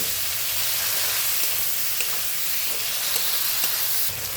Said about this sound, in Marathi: नंतर लसूण टाकू आता छान परतून घेऊ